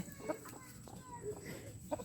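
Soft, faint clucking from golden Ta Phao chickens, a few short calls scattered over quiet outdoor garden background noise.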